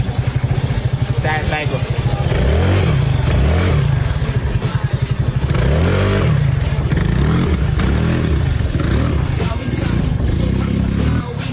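A carbureted motorcycle fitted with an aftermarket breather, louder than stock, revs loudly and close in repeated rising bursts over a throbbing idle, with a few brief spoken words.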